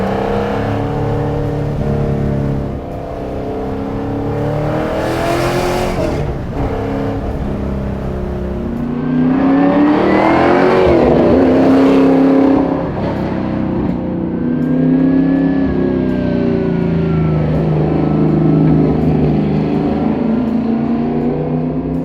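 A sports car fitted with a Tremec 6-speed manual transmission drives and accelerates, its engine note rising and falling through several pulls, loud and close from inside the cabin.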